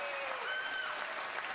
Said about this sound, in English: let's see what the audience has decided by applause